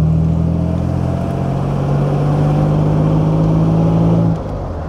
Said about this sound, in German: Maschine läuft seidenweich.